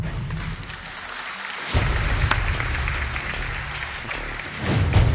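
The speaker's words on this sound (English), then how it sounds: "Let's give a warm round of applause to this brilliant young designer." Applause at a banquet for a young designer, a steady wash of clapping from a gathered crowd that swells louder near the end, with no talk over it.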